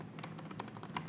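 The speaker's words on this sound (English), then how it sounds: "So I'm going to start typing" Rapid, light clicking of keys on a computer keyboard while writing HTML code, a steady patter of close individual keystrokes with no speech.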